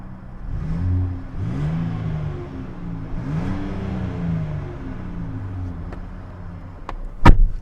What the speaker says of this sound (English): Go ahead and give it a couple revs.